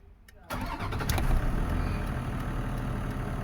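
A 1998 Toyota Land Cruiser 100 engine cranks over briefly and catches, then settles into a steady, fairly loud running rumble close by, following a short quiet stretch.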